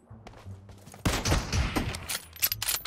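A PUBG Mobile shotgun blast booms suddenly, followed by a ragged run of further shots and clattering impacts, close and loud.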